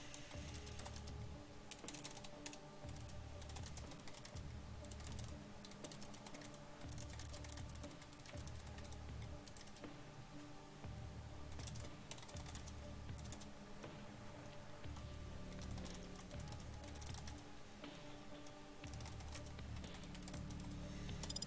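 Computer keyboard typing runs throughout in steady bursts of clicking keys, close and moderately loud, with a pause around the middle, at a tournament caster's desk.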